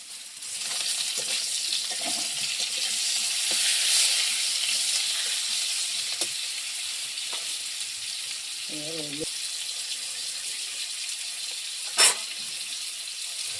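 Ginger with green and dried chillies frying in hot oil makes a steady, close sizzle that slowly fades, with a few faint clinks and one sharp tap near the end.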